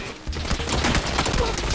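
Rapid bursts of gunfire fill a PUBG match in tall grass, dense overlapping shots crackling loudly and continuously after a brief quiet start, with faint voices mixed in.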